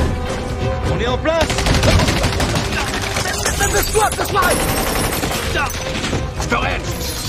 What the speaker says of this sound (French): d'où nous arrivent les coups de feu?